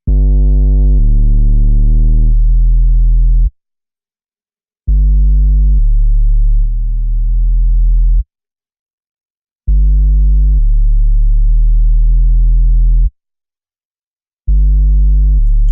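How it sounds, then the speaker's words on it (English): Synth bass in a pop song production plays deep, loud sustained notes in short phrases, each a few notes long, separated by brief silent gaps, alone with no voices. "I like how the bass sounds there"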